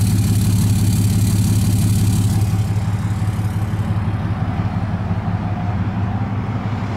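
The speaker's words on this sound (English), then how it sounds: "Give you a sound of this exhaust." A 2007 Dodge Ram 3500 SLT with a Cummins 6.7 diesel idling outdoors, its exhaust giving a loud, steady low rumble with a rapid even pulse, heard close and alone.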